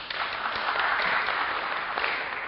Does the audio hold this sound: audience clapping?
yes